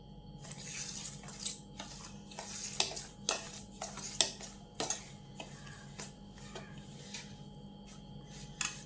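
Curd and semolina being mixed together in a bowl, with soft scraping and light clinks of a spoon against the bowl at an irregular pace, fairly quiet and close, with no talking.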